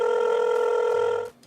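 A telephone ringing for an incoming call, a steady electronic ring tone held loudly and evenly before cutting off abruptly near the end, alone with no talk.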